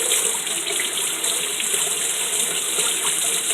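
Tap water runs steadily from a faucet as glue is rinsed off a hand, a close, even rushing hiss that holds from start to finish with no talk over it.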